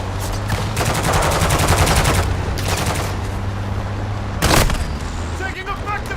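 Gunfire in Call of Duty Warzone 3 DMZ at Al Mazrah, with automatic bursts and a shotgun blast, loud and dense over constant game ambience and a low hum, with one sharp boom near the end.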